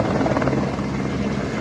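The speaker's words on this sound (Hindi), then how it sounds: "यकीन मानिए हम पहली बार देख रहे हैं हेलीकॉप्टर को इतना नज़दीक से टेक ऑफ करते हुए।" A helicopter lifts off at close range at Kedarnath, its rotor and engine roaring loud and steady throughout with a dense, continuous whine and thrum, ending abruptly.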